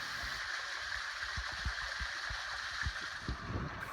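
Creek water running through a mountainous island, a steady broadband rush with small gurgles and low splashes throughout, close and continuous with no voices.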